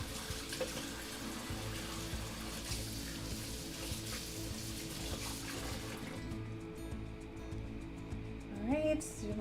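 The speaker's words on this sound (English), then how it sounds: "I'm gonna quickly wash my fingers because I'm a mess again." Hands being washed under a running kitchen tap while baking a lemon pound cake, a steady close stream of water with splashing that thins out partway through, followed by a brief voice near the end.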